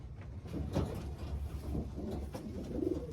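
Soft, low racing pigeon coos repeat in a steady murmur, close by, with a faint background hum and no talking.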